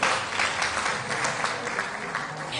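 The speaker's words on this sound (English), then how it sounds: "Clap your hands for this guy for me" A crowd applauding steadily, dense clapping that holds at an even level throughout without any voices standing out.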